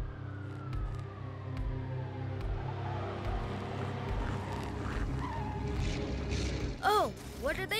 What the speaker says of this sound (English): Oh yeah, they're revving their engines. And they're off! They're driving so fast!